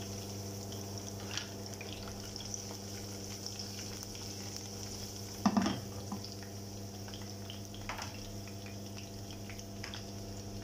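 Garlic cloves frying in hot oil with sprigs of rosemary and thyme, a steady low sizzle running through the whole stretch with one brief louder crackle burst midway.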